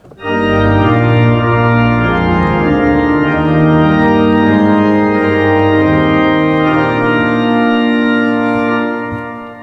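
A pipe organ plays a slow hymn-like passage of full, sustained chords, rich and bright, with steady volume throughout.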